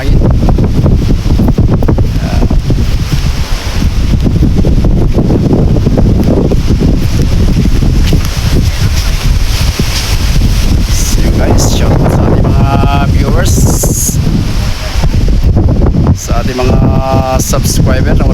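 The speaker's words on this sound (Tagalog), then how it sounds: "Grabe ang hangin, super ang habagat, napakalakas." Strong habagat monsoon wind roars and buffets the microphone without letup, a loud, dense rush that covers the whole stretch, with brief tonal whines showing through near the end.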